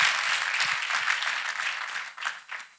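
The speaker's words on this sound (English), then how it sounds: "People of God, clap hands for Jesus Christ." Church congregation clapping hands together, a bright, fairly loud patter of many hands that thins and fades toward the end, with no speech over it.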